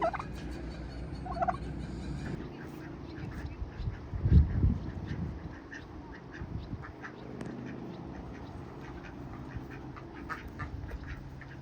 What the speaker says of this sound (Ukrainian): це ручний індик